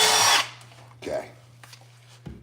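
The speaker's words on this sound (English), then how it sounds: "Now I'm just going to go through and drill them all" A power drill bores holes for brushed nickel door handles, one loud short whir at the start that stops abruptly, then quiet handling clatter and a faint steady hum.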